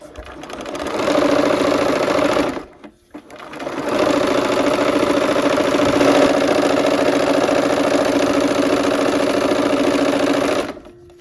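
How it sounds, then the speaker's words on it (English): Sewing machine stitching a scant quarter-inch seam with a quarter-inch foot on barn quilt sampler blocks, running loud and steady, pausing briefly, then running steadily again. "now I'm going to sew a 1/4 inch from both sides of the diagonal lines"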